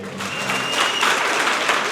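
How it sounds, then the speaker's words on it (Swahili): A group of students claps for themselves in a steady burst of applause, dense and fairly loud for the whole clip. "Mjipigie makofi wenyewe."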